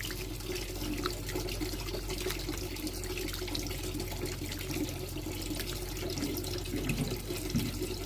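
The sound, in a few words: washing meat under running tap water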